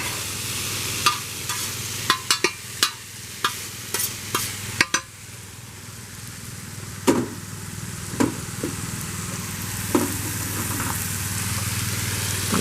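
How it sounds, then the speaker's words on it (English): Tomatoes sizzle and fry in a pan for Asian carp fajitas, a steady close crackle broken by sharp scraping stirs at irregular intervals. "Tomatoes are cooking up just to where I like them though."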